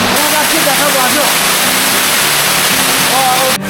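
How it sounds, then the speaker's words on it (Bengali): The Ghagra waterfall in the Rangamati hills roars loudly and constantly, with faint voices just audible beneath the rushing water. "এপাশে আরো হয়তো ঝর্ণা আছে।"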